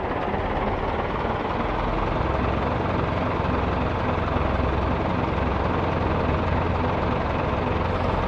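Race car engines in the iRacing sim game spooling up together at a race start, a dense, steady, loud droning roar with no pauses throughout.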